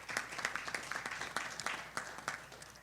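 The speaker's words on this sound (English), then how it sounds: "please give Peter a round of applause" At a boxing kickoff press conference, a small crowd gives a thin round of applause: sparse, distinct claps with a rough irregular rhythm, fairly quiet in the room.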